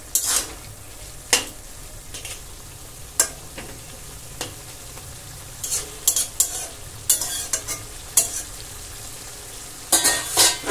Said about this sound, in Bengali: তার মধ্যে আমি দিয়ে দেব টমেটো। হলো, তারপর নেড়ে চেড়ে দিই